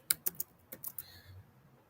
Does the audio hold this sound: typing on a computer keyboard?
yes